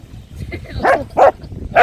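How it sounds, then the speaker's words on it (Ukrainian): A dog barks in short, sharp bursts, three or four close yaps with small whimpers between them, while playing with a ball at the Odesa seaside around Arkadia, and a person's voice is faintly present. "Це вона гавкає, каже мені закапує"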